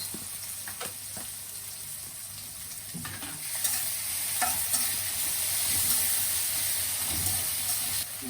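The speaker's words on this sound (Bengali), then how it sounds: "এইগুলো দিলাম আদা রসুন পেস্ট" Ginger garlic paste fries in a pan with a quiet, even sizzle, punctuated by scraping and clinks as it is stirred, with no talk.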